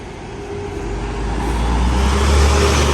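A bus rumbles past on a road in the Philippines, its low engine drone and tire roar building steadily and loudly close by, with continuous traffic noise around it.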